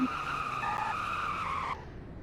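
A car braking hard and skidding in a roleplay driving video game, a sustained tire squeal over engine noise, loud and close, cutting off abruptly near the end.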